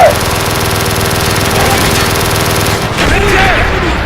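Automatic gunfire in the Xbox 360 game Call of Duty: Black Ops, a loud continuous rattle that fills most of the clip, with a brief lull and a shift in tone near the end.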